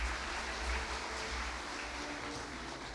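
Sustained applause fills a university degree ceremony hall, a dense, even patter from a large crowd heard at a distance and lasting the whole three seconds.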